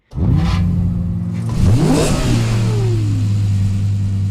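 A car engine, hailed as the best-sounding stock engine in the car industry, revs loudly and close by, climbing and falling in pitch through several sweeping throttle blips before settling into a steady drone.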